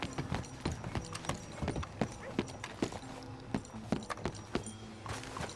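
Horse hooves clip-clop in Red Dead Redemption 2, a steady walking rhythm of distinct close knocks with faint ambient town sound beneath.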